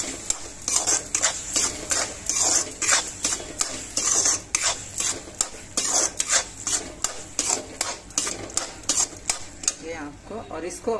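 A spoon scrapes and clatters around a pot in quick repeated strokes, mixing dry fruits and sugar, loud and close with brief pauses between bursts.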